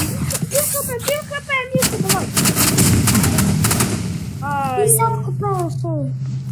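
Gunfire in a shooter video game, with bursts of rapid shots and loud blasts crowding most of the clip while players talk over it.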